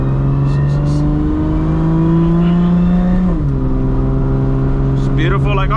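A Toyota MKIV Supra with a 1600 HP engine cruises with a steady, loud, close engine hum, dips briefly as it shifts, then settles back, with a short rise near the end.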